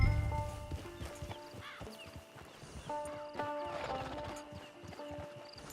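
In the video game Red Dead Online, a horse walks with steady, rhythmic clip-clop hoof steps and lets out a whinny partway through. Sustained tonal game music plays underneath at moderate volume.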